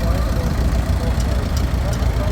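Vintage Fordson tractor engine running at a vintage machinery club rally, a steady low idling rumble with a continuous mechanical chug, close and fairly loud throughout.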